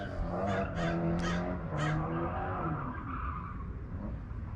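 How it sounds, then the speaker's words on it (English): Car tires skidding and squealing somewhere nearby as someone drifts, several rising screeches in quick succession over a rumbling engine, then fading. "apparently somebody's drifting."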